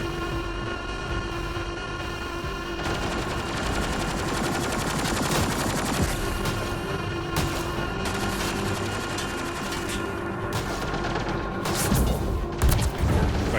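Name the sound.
gunfire in the video game Mass Effect Andromeda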